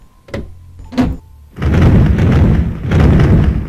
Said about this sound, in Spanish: La puerta se abrió de golpe.